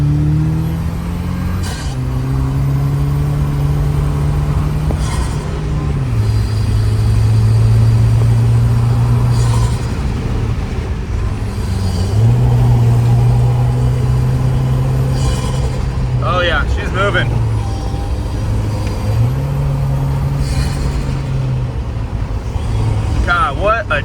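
A 4th gen Toyota Tacoma fitted with a snorkel and cold air intake revs repeatedly, its engine note rising and settling in several bursts, loud and close, with people talking over it.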